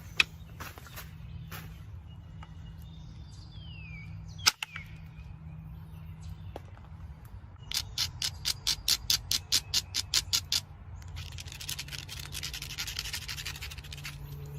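Flint edge being ground and flaked while making an arrowhead, heard as a rapid run of close, sharp scraping clicks after a few isolated knocks and taps, over a low steady hum.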